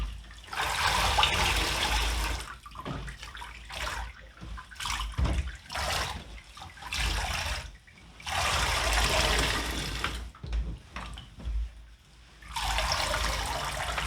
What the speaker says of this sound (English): The water's draining away through the plug hole